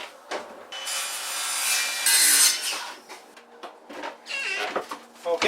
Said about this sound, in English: First we cut the top, then we cut the notch.